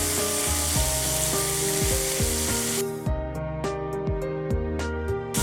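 Rohu fish frying crisp in a pan, a steady sizzle with tonal ringing and sharp clicks, loud and close, the broadband hiss dropping away partway through as the crackle continues.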